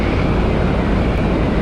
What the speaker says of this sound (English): Gear is down, airplane's configured, final checks are complete.